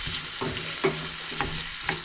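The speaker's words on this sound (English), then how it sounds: "I'm going to add the onions with it. And I'm going to stir it." Onions sizzle steadily in a hot pan over medium-low heat, with a spoon scraping and stirring through them in several distinct strokes, close and continuous with no voices.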